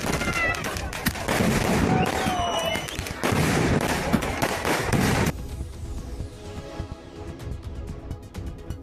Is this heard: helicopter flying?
no